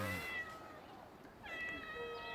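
A domestic cat gives two drawn-out, tiger-like yowls, the first trailing off and the second rising after a short pause, quiet and fairly close.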